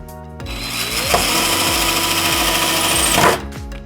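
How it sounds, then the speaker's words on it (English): A Harbor Freight DrillMaster cordless drill screws or unscrews a fastener, its motor whirring loudly and steadily for about three seconds with a rising, strained pitch before stopping sharply and leaving brief clicks at the end. "And it works great just screwing and unscrewing things."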